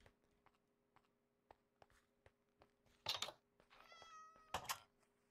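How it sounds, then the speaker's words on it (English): A cat in Minecraft 1.19 gives a few clear meows, one drawn out, among sparse soft clicks over a low steady hum. No voices are heard. "I keep getting cats in that boat."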